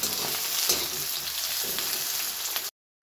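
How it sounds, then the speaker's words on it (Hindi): Onions frying in a pan for masala Maggi: a loud, continuous crackling sizzle heard close up, which cuts off abruptly near the end. "ये डाल देंगे प्याज को हल्का सा फ्राई किया करेंगे"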